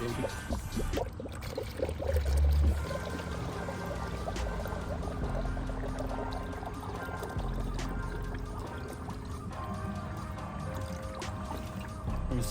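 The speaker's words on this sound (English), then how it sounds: "we're gonna start pouring it in. In it goes." Coolant pouring into a 2009 Mazda 6 with a 3.7L engine during a coolant flush, a steady soft gurgling trickle of liquid running for several seconds at low volume.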